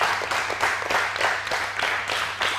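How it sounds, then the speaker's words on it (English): Audience applause for a young girl on a children's TV show, steady crowd clapping sustained for a few seconds with no break, moderately loud and even throughout. "Give her a hand, cheer her up."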